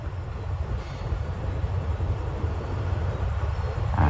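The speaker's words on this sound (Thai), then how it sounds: "ก็ออกจากสถานีกรุงเทพนะครับผม 15:10นะครับทุกคน" Thai special express train number 37, running Bangkok to Sungai Kolok, departing Bangkok station with a steady low rumble and rolling rail noise throughout, no voices.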